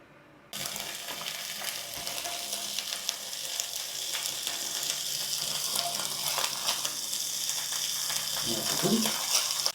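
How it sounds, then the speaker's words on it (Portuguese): Bacon frying in a pan throws up a loud, continuous crackling sizzle that starts abruptly after a short quiet moment and holds steady, with small pops, for about nine seconds. "Agora eu vou fritar o bacon"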